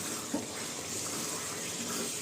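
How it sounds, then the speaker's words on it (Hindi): Water pours steadily into a pot of Hyderabadi chicken potato pulao, a continuous even gushing rush with no break, fairly close and alone. "अब इसमें पानी डाल दीजिए।"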